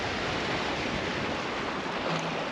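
Open-ocean surf at a river mouth near Willie Creek, Broome, rolls in as a steady, dense wash of broadband noise, constant and moderately loud with wind, no voices.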